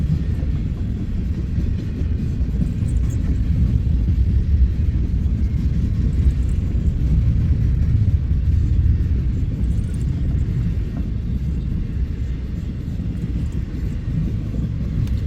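A long freight train with a mid-train DPU locomotive passes during the start of a blizzard, a heavy continuous low rumble and rolling roar that stays loud and steady throughout, with no voices.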